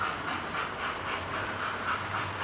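A Hornby Star Class model locomotive with a TTS sound decoder runs along, giving a steady, fairly loud steam hiss with soft, evenly spaced chuffs throughout and no voices.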